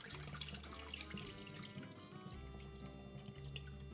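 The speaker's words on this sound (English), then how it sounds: "Rinse the glutinous rice" Glutinous rice is rinsed in water, a steady close swishing and pouring with running liquid and gentle trickling that continues throughout, with no talking.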